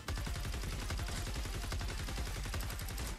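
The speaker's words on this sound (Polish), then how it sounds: "zobaczcie, jak Nocturno strzela w tym momencie" Rapid, continuous gunfire from the Nocturno weapon in a shooter video game, loud and close, firing without pause for about three seconds.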